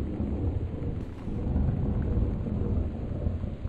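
Deep, rolling thunder rumbles through a storm in the Gone Home game, a continuous low roar with steady rain hiss, swelling slightly midway and never fully fading, no voices present.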